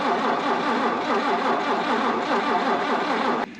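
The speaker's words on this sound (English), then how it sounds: "I just need the mighty 2F just to fire up one more time" A Toyota 2F engine in an FJ45 Land Cruiser struggles to start, cranking loudly and steadily with a rough, rhythmic churn before cutting off abruptly.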